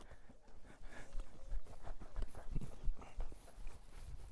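A young stallion walking around to cool off after a training session, hooves clip-clopping in an uneven close rhythm, with faint rustling and background noise around the steps.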